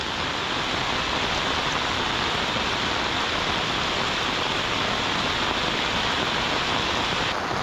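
Steady heavy rain pours down over a swollen Konkan stream in flood, making a dense, constant broadband hiss and rush that fills the whole stretch at an even, loud level with no voices.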